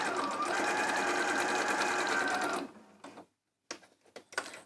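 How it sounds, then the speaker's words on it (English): A sewing machine runs in a fast, steady whir for a few seconds while stitching the edges of a fabric tote bag, then stops, followed by brief handling clicks and quiet movement. "I'm going to sew these 2 edges on now to hold them in place and then sew the channels"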